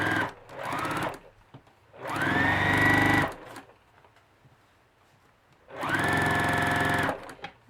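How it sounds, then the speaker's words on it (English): A home sewing machine stitches a quarter-inch seam around a fabric piece in three separate bursts of steady, close, high-pitched whirring, with quiet pauses in between and no talking. "I'm just gonna sew 1/4 inch around."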